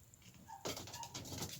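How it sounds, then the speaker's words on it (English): A small dog yips and whines a few times in quick succession, fairly faint, as if from a neighbouring room or yard. "that's my neighbor's dog barking."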